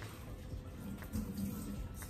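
Water runs and splashes from a flower vase as excess is poured off, a steady moderate trickle continuing throughout.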